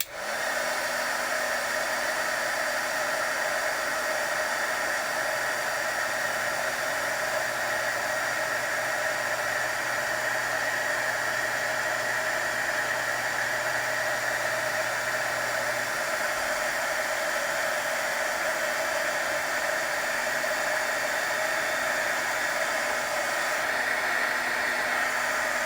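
A heat tool blows a constant hissing, fan-driven roar close by while melting embossing powder, a steady uninterrupted drone with no speech.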